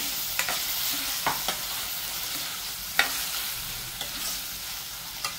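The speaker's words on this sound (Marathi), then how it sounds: "थोडेसे परतून घ्यायचे।" Chana dal sautéing and being stirred in a pan for a spinach dish: a continuous close sizzle with scattered sharp clicks and scrapes of the spoon against the pan, no voices.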